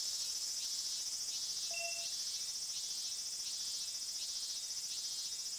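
Cicadas in the video game Eve: New Generation, a loud, steady high-pitched drone with regular pulsing chirps, continuous over quiet background, with a brief electronic tone.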